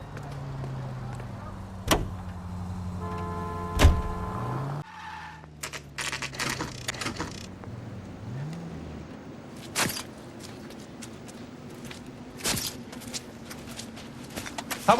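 Car driving in the LA Noire video game, with engine drone, a skid or tire squeal, door and window clunks and sharp transient knocks, heard close with no talk over it.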